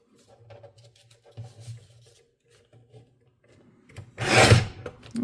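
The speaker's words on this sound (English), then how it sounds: "I know the guillotine is kind of loud" A paper guillotine cuts through a stack of copy paper: one loud, sharp slicing crunch near the end, following quiet shuffling and handling of the paper beforehand.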